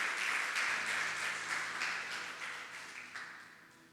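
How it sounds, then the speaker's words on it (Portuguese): A church congregation applauds the Lord during a sermon, broad rhythmic clapping from many hands that stays strong before gradually tapering off. "Quantos podem aplaudir ao Senhor?"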